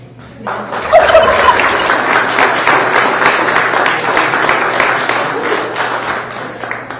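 Turkeys gobble at a press conference, their calls blending into a dense, steady wash of crowd clatter and applause-like noise that stays loud throughout.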